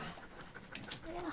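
A dog pants quietly in short, rapid breaths while people talk nearby.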